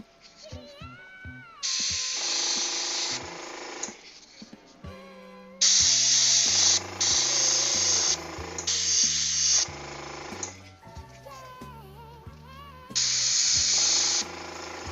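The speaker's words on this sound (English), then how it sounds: "I think I'm just about ready to stop the airbrush." An airbrush spraying paint hisses in three bursts, the middle one longer and broken by short pauses, with tonal sounds in the background between the sprays.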